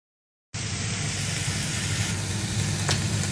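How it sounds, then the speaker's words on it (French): Green beans frying in a pan give a steady, close, bright sizzle that starts abruptly after a brief silence and holds evenly, without any voices. "Là, je fais bien cuire, revenir les haricots verts."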